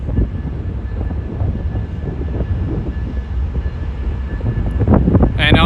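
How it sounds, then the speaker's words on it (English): A train approaches along a rail line in Etobicoke, heard as a low, building rumble that grows louder toward the end, with wind buffeting the microphone throughout. "I hear a train coming."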